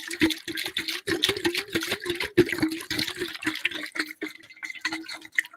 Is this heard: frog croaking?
no